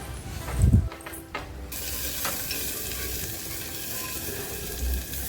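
Chopped onions tipped into hot oil with mustard seeds, pepper and a cinnamon stick for a Chettinad aviyal: a clattering thud as they land, then a steady, close sizzle with stirring.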